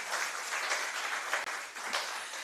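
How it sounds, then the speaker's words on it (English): An audience at a women's financial markets conference applauds a presenter, a steady, full round of many hands clapping continuously throughout, close and even in level. "A resounding round of applause for Nyasha."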